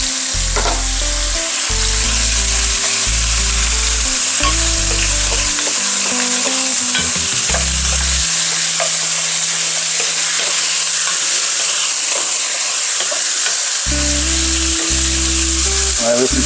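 Beef hisses and sizzles steadily in a seasoned pan with onion and garlic, a loud continuous frying crackle with occasional stirring scrapes, no talking.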